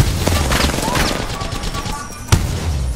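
Gunfire in Overwatch 2 or Apex Legends comes as bursts of sharp cracks across the clip, with one loud shot near the end, under busy game noise and a talking voice.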